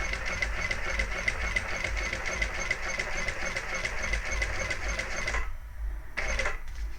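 A sewing machine top stitches cork with a long stitch length, running as a rapid steady mechanical hum, then stopping briefly before a short final burst.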